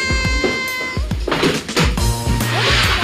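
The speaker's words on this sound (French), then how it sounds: "j'ai un chat parce que je kiffe les chats" A pet house cat meows several times in quick succession, close and fairly loud, with harmonic cries over a steady background hum and no talk.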